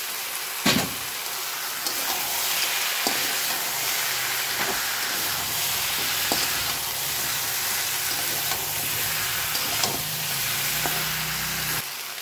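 Spice masala fries with fried potatoes and fish head, making a loud, constant sizzle and hiss. Occasional spoon scrapes and knocks break in, and a low steamy rumble runs beneath.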